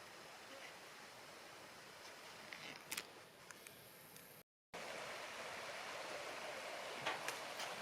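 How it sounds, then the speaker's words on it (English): A creek flows steadily beside the stones of an early 1800s iron furnace site, a soft, continuous broadband rush of water with a brief dropout midway and a few faint clicks. "This creek is so beautiful this time of day."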